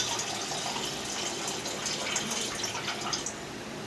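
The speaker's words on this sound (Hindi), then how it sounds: "तो चावल में का पानी ऊपर का निकाल देना" Water is poured off boiling rice for biryani in a continuous, fairly quiet gushing stream that splashes without pause.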